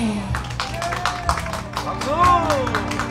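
An audience claps at an outdoor performance, with a steady run of sharp claps in a fairly even rhythm over crowd babble and talk.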